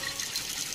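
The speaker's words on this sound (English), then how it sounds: "Put some cold water" Cold water poured into a container, a steady close hissing trickle and splash that runs without pause for under a second.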